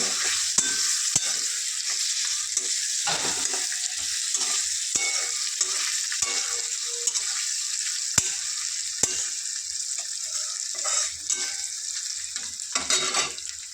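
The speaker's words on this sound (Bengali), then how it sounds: "এবার আমি এটা একটু কষাবো।" Chili, ginger, ground cumin and turmeric sautéing in a pan, giving a bright, steady sizzle with repeated scraping and tapping as the mix is stirred, no talk.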